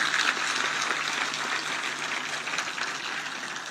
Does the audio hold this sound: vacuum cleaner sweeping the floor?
no